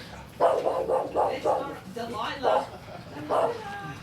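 An aggressive little dog barks in a short run of sharp, close barks, then breaks into a few more yaps after a pause, with people talking over and between them.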